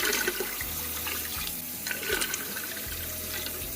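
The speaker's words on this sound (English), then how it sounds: "I want to bring the water up to above the jars." A pot holding canning jars fills from a running tap: a steady, close rush of water with gurgling splashes that continues without pause, no voices.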